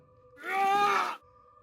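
A man screams in a Marathi horror audio story, one loud sustained cry lasting under a second that rises suddenly out of a quiet eerie background drone and cuts off just as abruptly.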